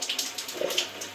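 Water runs steadily from a tap while a face is washed without soap, with soft splashes and rhythmic sloshing pulses nearby and no speech.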